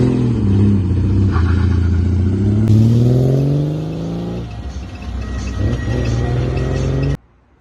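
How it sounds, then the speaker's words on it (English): A Triumph Spitfire fitted with a six-cylinder engine swap pulls off a driveway, its engine rumbling and revving up close, then settling into a lower, steadier drone as it moves away before an abrupt cutoff. "you'll see the car driving off the drive"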